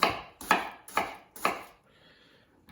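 A knife chops onion on a board for chicken tinga: four crisp, evenly spaced strikes, close and fairly loud, then a short pause. No talking.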